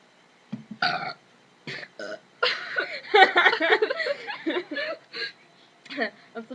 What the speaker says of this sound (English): We can have a burping contest.